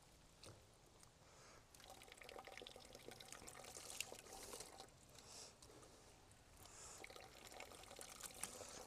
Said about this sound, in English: we're catching our water, it's going down in another bucket right now